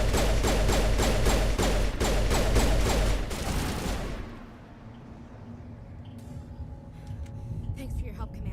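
Rapid bursts of video-game gunfire from Mass Effect rattle out loud and close for about four seconds, then stop and leave a low ambient rumble with a few faint clicks.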